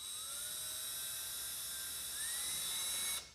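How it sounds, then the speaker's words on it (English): High, steady whine of a small rotary drill boring a hole near the top of a small cast resin earring, running continuously for about three seconds with a slight pitch rise near the end before stopping abruptly. "So I'm going to drill a hole up here in the top of this little fella here."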